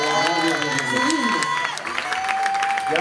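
Concert crowd applauding an artist invited onto the stage at a Tropical Love show, a broad wash of clapping and cheering under music and voices, sustained and loud throughout.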